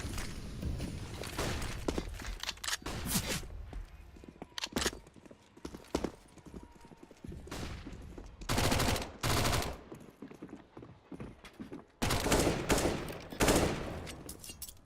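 Rapid Mac 10 submachine gun bursts in a CS:GO match, several loud sharp volleys in quick succession with short gaps between them, and a commentator speaking underneath.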